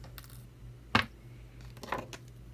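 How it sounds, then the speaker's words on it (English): Wire being snipped with cutters while making a bracelet, two quiet sharp clicks about a second apart against a low steady hum. "I just bend it over my nail, snip off what I don't need"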